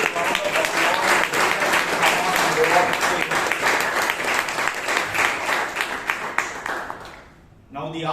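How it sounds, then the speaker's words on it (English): A big round of applause at a Toastmasters club meeting in Bangalore, dense continuous clapping from the room that fades out near the end before a voice resumes. "So please, give a big round of applause."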